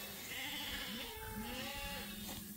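Sheep bleating on a farm after heavy rain, several wavering, drawn-out calls overlapping at close range over steady background noise.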